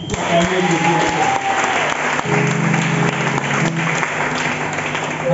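A congregation applauding and cheering together at a church service, a steady, loud wash of clapping from a crowd that carries on through the whole stretch, with murmured voices mixed in.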